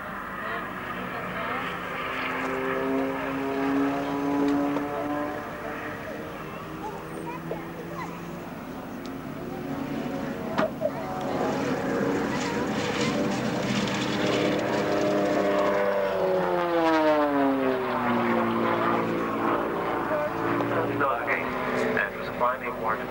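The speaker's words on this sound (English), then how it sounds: "to John Webb for bringing this very unique aircraft back again to be with us this year" A vintage Bristol Blenheim flies at the 1999 Enniskillen air show, its propeller engines droning with a harmonic hum that rises and bends in pitch as it passes, under a public-address announcer's voice.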